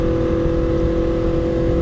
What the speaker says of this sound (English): let me give you a quick breakdown on the stock exhaust of the 2012 model year. It does have a throatiness to it.